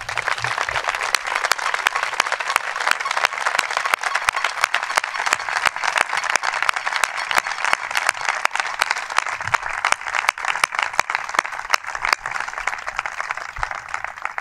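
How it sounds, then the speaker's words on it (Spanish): Outdoor audience applause at the opening of new sports facilities in a Spanish town: loud, continuous crowd clapping with dense sharp claps, steady throughout with no letup. "Así que un aplauso muy fuerte para Paco, por favor."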